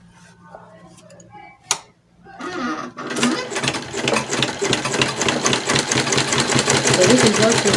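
Sewing machine stitching a padded off-shoulder princess bustier, starting after a brief pause with a steady, fast mechanical chatter that runs continuously and grows slightly louder, close up.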